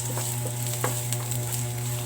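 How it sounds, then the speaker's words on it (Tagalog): Minced garlic and onions frying in a pan give a steady, close sizzle, with light scrapes and taps of a utensil stirring through them. "Minced garlic, minced onions. Mix lang natin guys."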